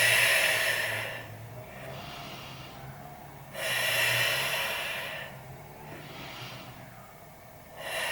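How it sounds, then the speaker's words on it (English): Slow, deep breaths during a Pilates back stretch, long airy inhales and exhales alternating in a steady rhythm, close and soft, with no talking. "Let's take 3 breaths."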